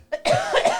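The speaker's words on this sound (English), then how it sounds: "I hiccup and coughed at the same time." A single person coughs, mixed with a hiccup, loud and close: a brief catch followed by a sharp cough burst lasting under a second, alone.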